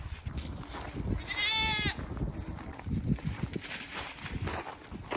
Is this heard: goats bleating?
yes